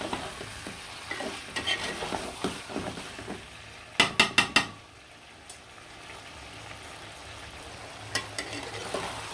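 Chicken pieces sizzle and get stirred in a pan while cooked down for a potato curry, with a dense frying hiss broken by a quick burst of four sharp metal spatula scrapes and scattered clinks.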